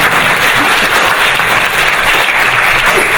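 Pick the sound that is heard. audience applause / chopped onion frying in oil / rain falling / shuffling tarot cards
audience applause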